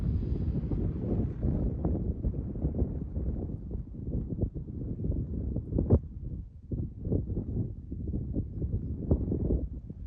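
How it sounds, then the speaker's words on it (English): Strong wind buffeting a microphone on a selfie stick outdoors at a petroglyph site, a steady low rumbling roar with gusty surges and no talking. "the wind is really blowing"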